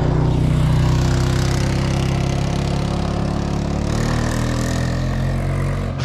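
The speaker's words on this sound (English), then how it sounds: "Here comes a four-wheeler kid." Four-wheeler ATV engine running loud and close, a steady droning motor holding the whole time with a slight shift in pitch as it passes by, no voices.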